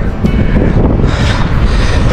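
Strong wind buffeting a microphone outdoors on a rocky shore during a fishing outing, a loud, steady broadband roar with gusty swells lasting throughout.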